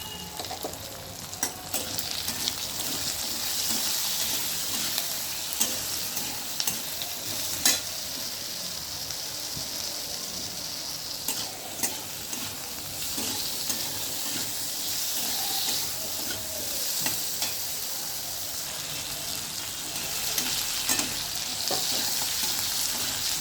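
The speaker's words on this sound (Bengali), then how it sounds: "দেখুন, আলুটা আমার ভাজা ভাজা হয়ে গিয়েছে।" Potatoes frying in a pan with salt and turmeric, a continuous bright sizzle and hiss with occasional scraping stirs, close and steady throughout, with no talking.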